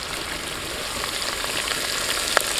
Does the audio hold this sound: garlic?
yes